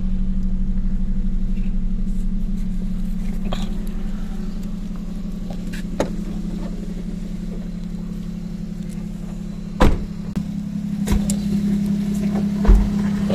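A 2013 Suzuki Celerio idles steadily through its muffler, a low, even engine hum heard close by, broken by a few knocks and clicks from handling around the car.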